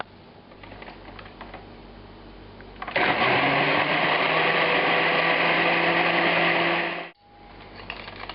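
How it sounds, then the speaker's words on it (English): A blender purees tomato sauce for Georgian satsebeli, starting abruptly with a loud steady whirring roar that runs for about four seconds, then cuts off and winds down, with faint kitchen noise before and after. "I got the blending started now"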